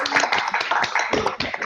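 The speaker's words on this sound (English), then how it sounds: "we can all give Abimbola a huge clap" Dense applause from many participants at an online awards ceremony, heard over a video call as a brief, bright, steady patter of clapping.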